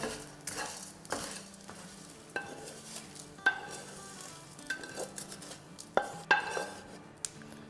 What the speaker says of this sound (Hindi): फ्राई करना ज़रूरी है जब तक कि सारे दाने फूल ना जाए।